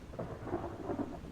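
Thunder from lightning rolls in the submarine game Silent Hunter III, a low rumbling crash mixed with the steady patter of rain, moderately loud and alone.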